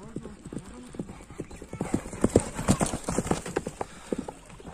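A gray horse's hooves clip-clop steadily at moderate distance, with a brief whinny and low voices talking throughout.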